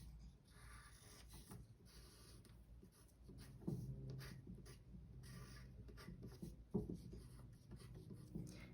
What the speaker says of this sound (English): I'm gonna try to erase the symmetrical line now.